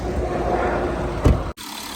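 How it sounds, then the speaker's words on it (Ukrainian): A Volkswagen Touareg 4Motion 3.0 (176 kW) engine idles with its hood open, a steady, even hum that holds without change before cutting off abruptly. "Мотор працює чітко, рівненько."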